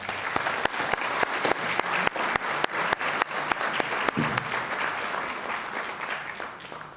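Sustained audience applause for the panellists at an ADFA Open Day Q&A panel session: a dense, steady clapping from a sizeable crowd that carries through the whole stretch, with sharper individual claps standing out now and then.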